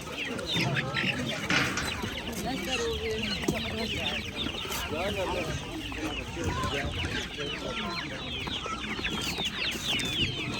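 Many chickens cluck and chatter continuously in a busy crowd at a market, with voices talking nearby amid the dense flock noise.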